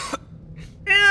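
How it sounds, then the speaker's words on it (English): A single short cough sound effect from the video game Redfall rings out near and loud, followed by a quiet pause and then a person talking over it. "Ew, I hate coughing sound effects."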